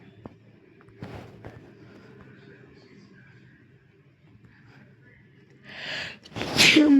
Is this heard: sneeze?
yes